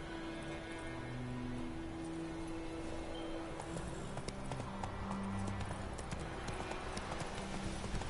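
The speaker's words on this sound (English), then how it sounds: "At least this horse is better than the D horse in Metal Gear Solid 5" Steady rhythmic hoofbeats of a galloping horse in the video game The Witcher 3: Wild Hunt, clip-clopping close by over a constant background hum, with no voices.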